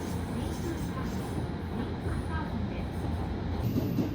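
Steady low rumble of a train rolling along rails near Izumisano, Osaka, a continuous droning roar from inside the carriage with faint murmurs in the background.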